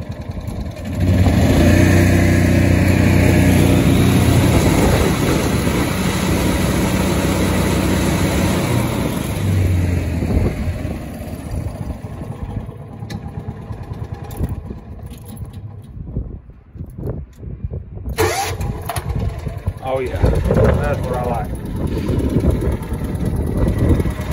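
A Kawasaki FE290D engine in a John Deere Gator, fitted with a new ignition coil, runs loud and close, idling steadily before revving and fluctuating unevenly.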